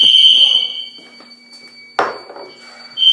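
A home fire alarm being tested with a spray gives a loud, shrill continuous tone that cuts off, leaves a quiet gap broken by a brief clatter, then blares again at the end.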